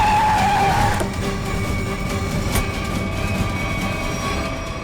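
A car brakes hard to a stop during a police chase in a crime drama, a loud rumbling skid with a high tire squeal fading after the first second, then a steady engine drone beneath.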